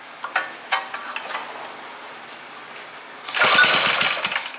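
A vintage Briggs & Stratton engine is pull-started by hand and fails to catch: a few sharp rattling pulls, then a louder, rough sputtering burst that dies away without the engine running.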